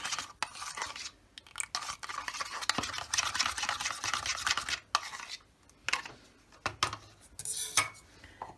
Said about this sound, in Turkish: Şimdi bir çırpalım onu kaşıkla.